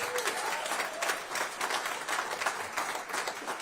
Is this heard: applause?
yes